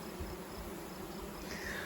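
Honeybees hum around an open hive frame, a soft, steady, continuous buzz at low volume with no voices.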